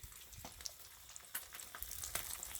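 Small crappie fish fry in a pan cooked the old-school way, a soft, continuous sizzle and crackle with scattered pops, faint and steady throughout.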